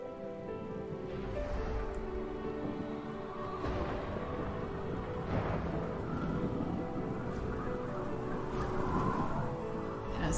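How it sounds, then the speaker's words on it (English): Thunderstorm in the video game The Last Guardian, with a steady wash of heavy rain and low rumbling thunder rolling beneath it, continuous and fairly quiet throughout. "Trico gets caught in a big storm"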